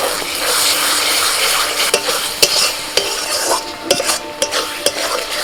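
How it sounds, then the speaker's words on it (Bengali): Ground spices, cumin, coriander and Kashmiri chili powder, fry in oil in a pan while being stirred, giving a steady sizzle broken by sharp scrapes and clinks of the spoon against the pan. "মশলাটা ভালো করে কষিয়ে নিয়েছি,"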